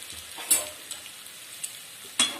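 Smashed potato mixture for Mumbai street-style vada pav filling being stirred in a pan, with a low sizzle and a few distinct spatula scrapes and taps against the metal.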